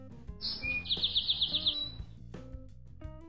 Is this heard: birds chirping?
yes